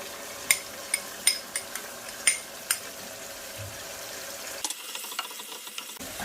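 A spoon stirs chicken and paste in a pan, with a faint sizzle underneath. Sharp scraping clicks come at irregular intervals, then things go quieter near the end.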